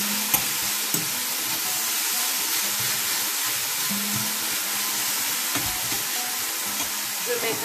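Stuffed vegetables with courgettes frying in a pan, a loud, continuous close sizzle and hiss with a few sharp crackles and the occasional stir of a utensil.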